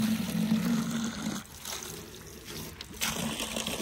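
Water from a fire hose gushing into a radiator, a steady loud rushing flow that dips briefly in the middle before surging again.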